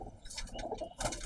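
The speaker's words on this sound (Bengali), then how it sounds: "এ হচ্ছে ভাইয়ের একটা আর্মি কবুতর" An Army breed pigeon coos softly nearby in low, throaty, rolling notes, with a second coo following after a short pause.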